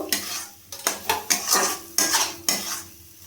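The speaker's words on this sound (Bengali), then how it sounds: "আলুটা দিয়েও একটু কষিয়ে নেব" A spoon scrapes and knocks around a kadai while spice paste and potatoes are stirred, loud rhythmic metallic strokes repeating every half second with a faint sizzle beneath, close up.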